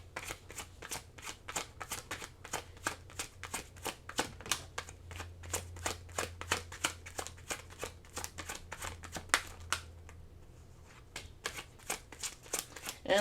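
Tarot cards are shuffled in a quick run of crisp riffling flicks that repeat steadily, close and fairly quiet, then pause briefly before a few more shuffles.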